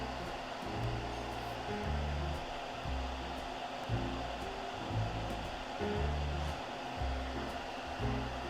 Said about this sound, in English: I hear the fume fan.